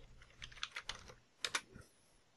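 A computer keyboard is typed on while a chat command is entered during Minecraft Pixelmon play, with two quick clusters of close, soft key clicks separated by a short pause.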